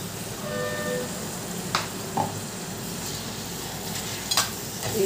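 Onions and tomatoes frying in a pan for eggplant curry give a steady, fairly loud sizzle throughout, with a few brief stirring clinks and scrapes on top; no one talks.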